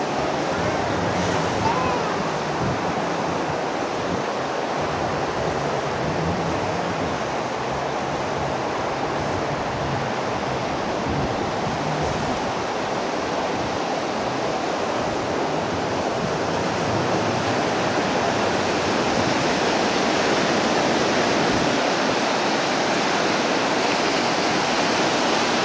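Ocean waves washing onto a shore on a summer day: a steady, full surf roar with gentle swells in loudness, continuous for the whole stretch, with wind adding to the wash.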